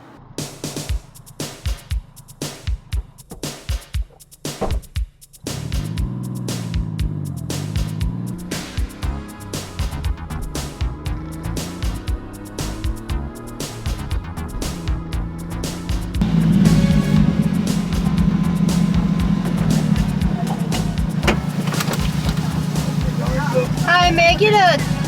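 A kei truck heading out for a drive, its small engine starting after a few clunks and then running steadily and growing louder as it pulls away, with a voice talking over it.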